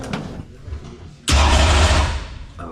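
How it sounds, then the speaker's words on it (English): A race car engine cranks briefly and then fires up with a sudden loud roar, rumbling strongly for about a second before dropping back, heard close with some faint shop noise beforehand. "All right, we're ready to fire it up."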